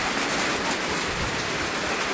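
Steady rain hisses evenly and fairly loudly, a dense wash of drops with no voices.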